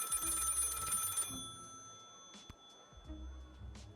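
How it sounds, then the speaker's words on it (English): A telephone rings in the video game Lil' Guardsman, a bright electronic ring lasting about a second that then stops, followed by faint clicks and low background game sounds. "Pick up the phone."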